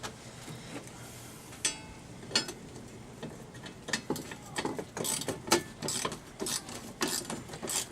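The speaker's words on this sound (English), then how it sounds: "I do have a Allen now and a little socket wrench. So let me see if I can't get it now." Small socket wrench ratcheting on a nylon-insert nut of a saw stand, a series of close, sharp clicking bursts growing denser and louder toward the end.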